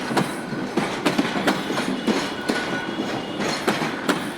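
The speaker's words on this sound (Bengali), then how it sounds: "রেল, বাংলাদেশ রেলওয়ে, ভিআইপি সব রেলগাড়ি" A passenger train rolls through Kamalapur railway station in Dhaka, its wheels beating a steady, rhythmic clickety-clack over the rail joints under a continuous roar. No voices.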